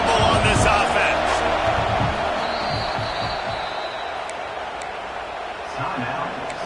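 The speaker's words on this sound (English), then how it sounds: "this crowd is making it miserable on this offense" Steady roar of a stadium crowd during a fourth-down stop in an NCAA college football video game featuring South Carolina, a loud continuous wash with occasional louder swells and a commentator talking over it.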